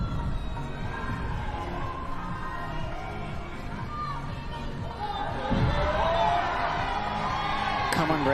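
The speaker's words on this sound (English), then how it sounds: "The crowd really getting behind the action here as they watch on." Spectators at a para climbing final at Seoul 2025 keep up a continuous murmur, with whoops and cheers swelling toward the end of the clip.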